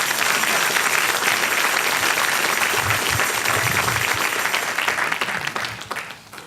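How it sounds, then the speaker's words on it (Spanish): Dense, continuous applause fills a church service as the congregation claps for God, loud and even, with a low hum beneath, before tapering off at the end. "Dale un aplauso a Dios"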